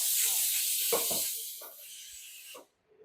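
A pressure cooker cooking rice lets out a loud, steady steam hiss that fills most of the moment, with brief clatter and faint household talk underneath before it cuts off abruptly.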